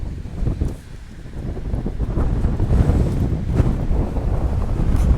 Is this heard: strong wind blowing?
yes